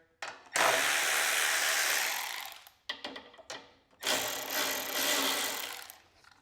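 A power tool, likely an impact driver or drill, loosens 10 mm nuts on a Bolens Powermore MTD snow blower. It runs in loud, close bursts: a long run, two brief blips, then another sustained run.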